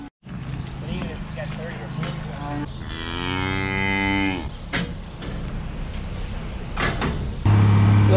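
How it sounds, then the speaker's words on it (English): Heifers and cows on a dairy farm, with a loud, drawn-out moo near the middle and other lowing around it, mixed with barn clatter and someone speaking. "We just feed these heifers once a day, mix a batch after we do the main cow batch in the morning."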